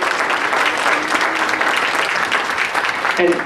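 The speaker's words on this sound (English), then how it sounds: "if we could just give them a round of applause and recognize their work" An audience at a school gathering applauds in recognition of the PTA, a steady crowded clapping that holds for a few seconds with faint voices mixed in.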